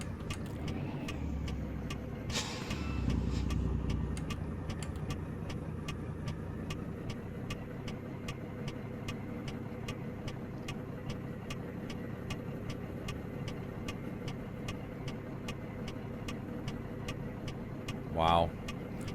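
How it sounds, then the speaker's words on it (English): In American Truck Simulator, a truck engine hums continuously with a rhythmic ticking, while other car traffic swells past early on and a short rising tone sounds near the end. "It's a lot of traffic for 6 o'clock in the morning."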